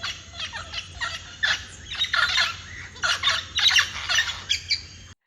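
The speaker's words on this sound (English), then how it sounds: "parrots that squawk in the mornings." Parrots squawking in the morning on an off-grid tropical island: a series of harsh, raspy squawks and chattering calls in quick irregular bursts, fairly close and loud over a low background hum.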